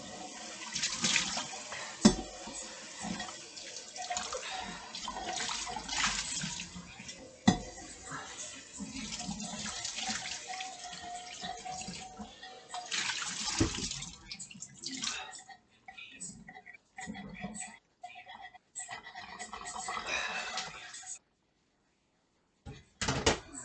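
Tap water runs and splashes steadily while food is rinsed in a kitchen sink, with brief clinks of dishes and a few drips, then the flow cuts off near the end.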